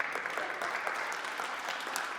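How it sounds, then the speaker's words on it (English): A book launch audience applauds steadily, a dense even wash of clapping from many hands without pause. "I think that does deserve some applause."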